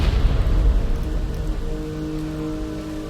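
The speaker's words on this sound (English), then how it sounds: "this gorgeous shot of Grace standing in the rain as the next title card drops." Steady rain falls in a scene from the video game Resident Evil Requiem, a dense, loud hiss with a heavier low rumble at the start that settles into continuous downpour.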